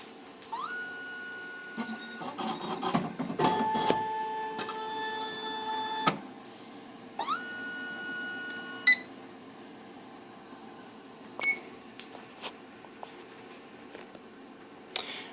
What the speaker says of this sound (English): we'll walk through the operation of the ICE-9000 and initialize this.